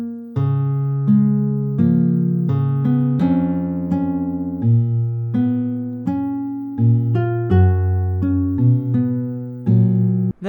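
A fan-made recreation of a Deltarune song melody plays as a clean, synth-like tune: steady single notes over low sustained harmony, moving at an even, unhurried pace for about ten seconds with no voices.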